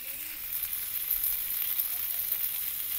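Pomfret fish frying in oil in a pan, a dense continuous sizzle and crackle held close and loud for a few seconds, with no voices.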